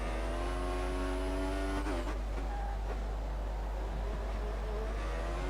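A Formula 1 car in the racing game F1 2014 on the Russia circuit: a high, steady engine whine cuts off abruptly after about two seconds. A rougher, noisy rumble follows for the rest of the stretch.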